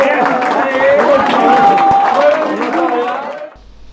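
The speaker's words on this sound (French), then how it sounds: "vous fassiez un tonnerre d'applaudissements pour ces trois" An audience breaks into loud, sustained applause, a dense wash of clapping with some cheering that swells and then fades out abruptly near the end.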